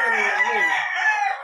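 A rooster crows in a chicken breeding pen on a farm, one loud, drawn-out call heard close and alone, tapering off at the end.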